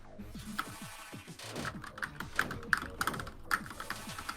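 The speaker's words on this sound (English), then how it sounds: "Probably also gonna hear the sound of my keyboard." Computer keyboard typing during a gameplay commentary session: a flurry of quick, close clicks and taps, some louder than others, over quiet background game music.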